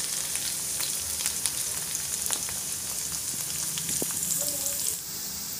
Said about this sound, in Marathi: आणि घालूयात हिरव्या मिरच्या।